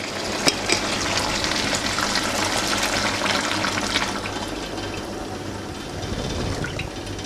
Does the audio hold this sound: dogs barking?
no